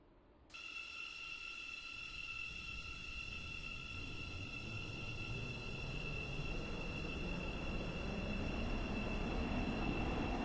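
A Stepford Connect train in the Stepford County Railway video game rolls along near Benton, a steady low rumble with a high sustained tonal whine that slowly builds in loudness.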